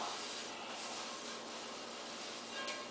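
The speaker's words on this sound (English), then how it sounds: "Go ahead and rub this in like so. Coat the entire pan." Oil is rubbed over the surface of a non-stick pan in a steady, soft, close rasping rub, with no voices.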